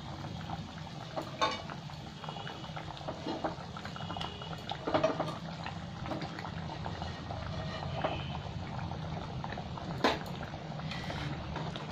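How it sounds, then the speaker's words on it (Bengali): Soybean kofta gravy bubbling steadily in a pot, a soft continuous simmer with occasional small pops, heard alone at moderate closeness. "ঝোলটা খুব ভালো করে ফুটবে, তারপর আমি কোপ্তাগুলো তুলে দেবো।"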